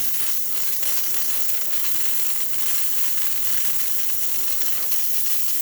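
A Lelit Bianca V3 espresso machine steam wand hisses loudly and steadily, steam jetting out continuously, sharp and airy, with no talking.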